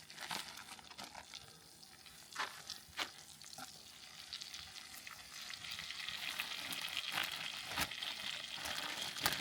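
Fish fries in butter with Cajun seasoning in a cast iron skillet over a propane burner outdoors, a soft crackling sizzle that builds steadily, broken by irregular utensil scrapes and taps.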